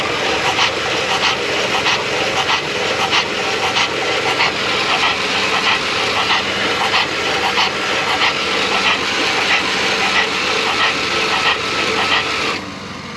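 An abandoned van's engine cranks and catches, then runs with a steady, rough, loud mechanical roar that holds for the whole stretch before dropping off at the end.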